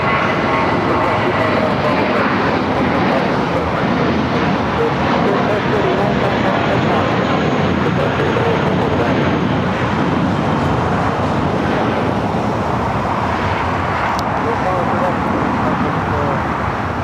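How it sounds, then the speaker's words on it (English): Delta Airbus A321 jet touching down on the south side at LAX, a loud, continuous broadband roar with wind buffeting the microphone throughout. "Delta A321 touching down here on the south side."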